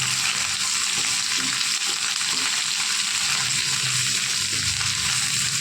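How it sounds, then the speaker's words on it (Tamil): Onions fry in a pan with salt for chicken sukka, producing a loud, dense, unbroken sizzle with a faint bubbling texture, close up and steady throughout. "உப்பு போட்டால் வெங்காயம் நல்லா வதங்கிடும்"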